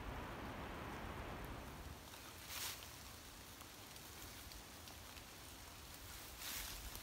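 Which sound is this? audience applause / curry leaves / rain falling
rain falling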